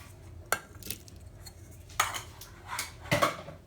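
Milk, sugar and yeast going into a Thermomix bowl: a few close, distinct clinks and knocks of utensils and containers against the bowl, with quiet gaps between and no speech.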